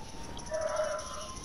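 A paramedic character in a video game barks like a dog: a single short, faint whining yelp in the middle of a quiet stretch, with steady background hiss.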